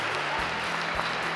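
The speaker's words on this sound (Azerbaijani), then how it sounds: "Mən istərdim ki, azarkeşlərimiz də bir özlərini alqışlasınlar." Brief burst of audience applause at a school sports competition, a dense steady patter of many hands clapping, lasting just over a second.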